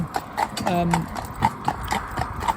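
Horse hooves clip-clop in a steady rhythm on a road, close and fairly loud, with a brief whinny partway through and someone talking over the sound.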